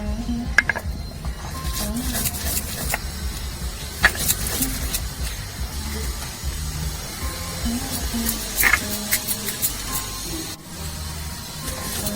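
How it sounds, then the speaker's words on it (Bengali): Dried chillies, cumin and black pepper being ground into a paste, with repeated rhythmic scraping and grinding strokes and occasional clicks and knocks running steadily throughout, close by and moderately loud. "লঙ্কা জিরে বাটা হয়ে গেছে"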